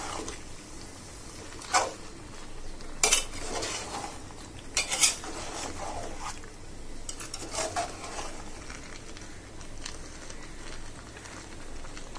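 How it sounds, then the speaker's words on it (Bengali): A metal wok is set on a stove, giving clattering knocks and scrapes of pots and utensils in a kitchen while pumpkin cooks nearby, then a few sharp clinks and a quieter stretch. "এদিকে আরেক চুলায় আমি কড়াই বসিয়ে দিচ্ছি"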